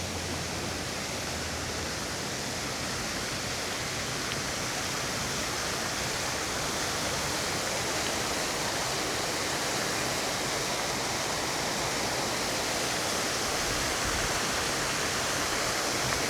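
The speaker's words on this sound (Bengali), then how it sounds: "দেখেন এরকম টোকিওর ভিতরে হাজার হাজার পানির ফোয়ারা" A water fountain in Tokyo's Marunouchi district splashes in a steady, loud, broadband rush that holds unchanged throughout, with no voices over it.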